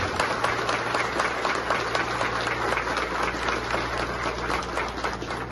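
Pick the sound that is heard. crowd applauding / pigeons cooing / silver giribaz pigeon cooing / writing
crowd applauding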